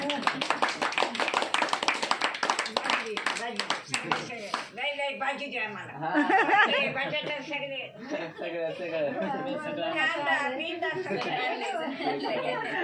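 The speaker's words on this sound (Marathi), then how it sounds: "त्याच्यासाठी टाळ्या वाजवा बरं सगळ्यांनी एकदा" A group claps for someone in a burst of close, crisp applause lasting a few seconds, followed by lively chatter and chuckling voices.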